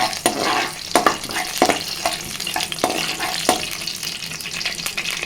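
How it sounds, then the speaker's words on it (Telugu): Cumin, mustard seeds and a dried red chili crackle and sizzle in hot oil up close, with frequent sharp pops and spoon scrapes over a continuous hiss. "కొంచెం జీలకర్ర కొంచెం ఆవాలు ఒక ఎండుమిర్చి ఫ్రై చేసుకోవాలండి"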